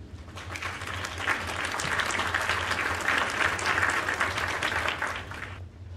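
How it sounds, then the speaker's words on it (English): Steady applause from a crowd, a dense wash of clapping that holds for several seconds before trailing off. "Thank you for your applause."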